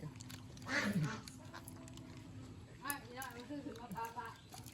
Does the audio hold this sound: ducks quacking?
yes